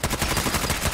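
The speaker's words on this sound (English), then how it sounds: "I'm getting the shit shot out of me" Rapid gunfire in Fallout 4's Nuka World, a quick burst of closely spaced shots rattling loudly for under a second.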